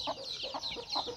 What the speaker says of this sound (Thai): นี่คือไก่ให้คุณแม่จ้า